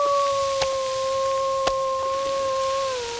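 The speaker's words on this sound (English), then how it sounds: "That mournful howl isn't nearly as touching when I know how happy you'd be to eat me" A wolf in the survival game The Long Dark lets out a long, sustained mournful howl, steady in pitch before drooping at the end, over a soft rain-like hiss with a few faint clicks.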